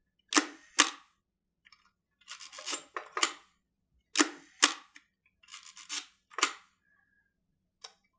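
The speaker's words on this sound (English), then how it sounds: "the shutter stays open for 1 second, allowing light to pass through" A camera shutter fires several times in a row at different shutter speeds, each release a crisp mechanical click or paired open-and-close clack spaced at varying gaps, close and clear in a quiet room with no talking.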